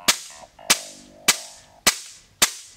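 A gas blowback airsoft rifle fires five sharp, loud single shots at an even pace about half a second apart, each a crisp snap with a quick metallic ring as the bolt cycles.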